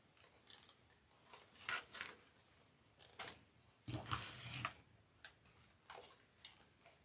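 A zip tie being pulled tight on a DIY Christmas tree topper, heard as faint repeated ratcheting clicks in short bursts, close but quiet.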